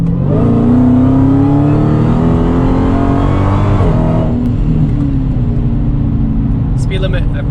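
Dodge Challenger Hellcat engine revving hard and accelerating, a loud deep roar that climbs in pitch and then eases off, heard from close up.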